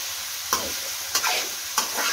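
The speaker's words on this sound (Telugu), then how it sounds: "ఇంకొక 5 నిమిషాలు ఫ్రై చేయాలా? ఒక 5 నిమిషాలు ఫ్రై చేస్తే" Broad bean masala curry fries in a pan with a constant sizzle, broken by three evenly spaced scrapes of a spoon stirring through it, close and clear.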